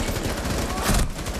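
Rapid gunfire from the video game Rainbow Six Siege, a dense, loud burst of shots running through the whole short moment with no talk over it.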